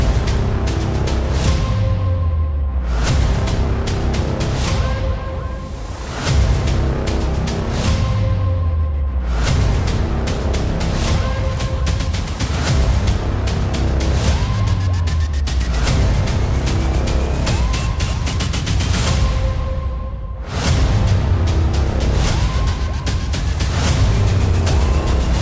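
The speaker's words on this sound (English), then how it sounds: "So we're gonna take this beauty out on the track, virtually, and see what it's made of." A Lamborghini Huracán Evo driven on track in a racing simulator: a steady engine roar with repeated rising gear pulls and sharp drops at shifts, loud and continuous, no voices.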